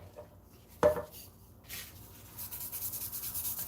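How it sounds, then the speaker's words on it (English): A bowl being scrubbed with Barkeeper's Friend: a sharp knock, then soft rhythmic rubbing strokes that grow steadier and louder, close and quiet, with no voices. "Let me try one more thing. I got one more bowl I gotta clean."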